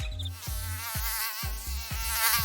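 A mosquito buzzing close by in a continuous high-pitched whine, with pulsing low thumps in a steady rhythm underneath.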